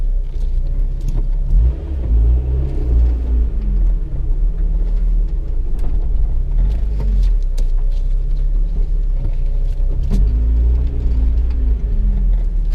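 A Honda Civic EK9 Type R drives a winding back road, its engine a steady, close rumble that swells and eases as the revs rise and fall, with no voices over it.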